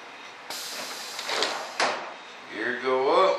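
Landing gear doors on a scale model F-14 Tomcat cycle open with two sharp mechanical swishes and servo whirs close by, and a voice briefly speaks at the end.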